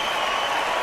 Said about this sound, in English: Fellas, if you can hear the crowd playing into Dope Son's tactics here